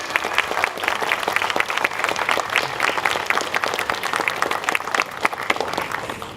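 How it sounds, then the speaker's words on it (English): At an animal adoption and rescue center grand opening ceremony, an audience applauds the staff with steady, moderately loud clapping whose individual claps stand out, continuing throughout. "So at this time, I'd like to get a round of applause for our dedicated staff."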